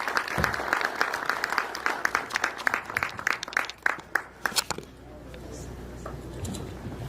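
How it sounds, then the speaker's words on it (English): A round of applause from the audience at an agro-ecology policy launch for Chumba: scattered claps over about five seconds, fading into room murmur and soft voices. "Let's please add Chumba a round of applause"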